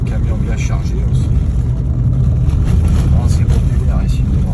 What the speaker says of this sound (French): Camion bien chargé aussi.